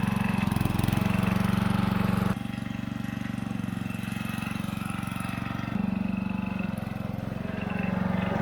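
A Towford 38 ride-on mower engine runs steadily at close range, a loud continuous mid-pitched drone that shifts in tone as the machine reverses and then moves forward, with no talk over it.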